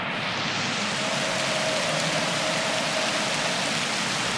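Steady, dense rain falling in the video game 35MM, a continuous loud hiss of downpour with no pauses and no talk.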